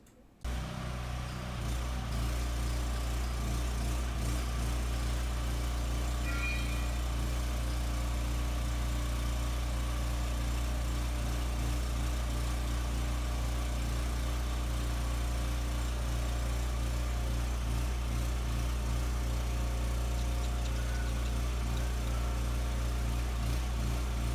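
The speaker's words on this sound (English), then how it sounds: "now they've actually stopped with the motor over there" An engine drones steadily nearby with a deep, constant rumble that keeps running unchanged throughout.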